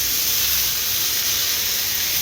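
Sliced spring onion stalks hit hot spiced oil and give a loud, continuous, close sizzling hiss that stays steady throughout.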